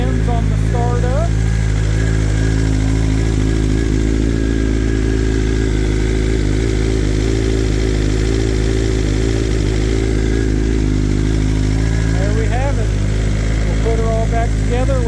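A BMW M1000RR superbike idles steadily just after startup, a loud, even engine rumble holding throughout with some mechanical clatter and faint voices in the background.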